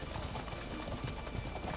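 Horse hooves clip-clopping in the medieval video game Life Is Feudal, a steady soft rhythmic patter of hoofbeats at moderate distance over a constant low background hum.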